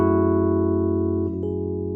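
Electric keys play a sustained R&B neosoul chord, with a quick rolled change to the next chord about midway, the tones ringing on steadily and clearly with no voices.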